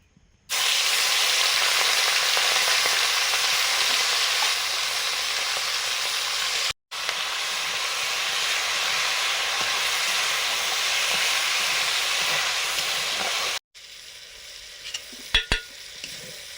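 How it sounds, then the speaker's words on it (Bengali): Loud, continuous sizzling of prawns frying in hot oil, briefly interrupted twice, then dropping to a quieter crackle with a few clinks. "আগে চিংড়িগুলো ভাজছি।"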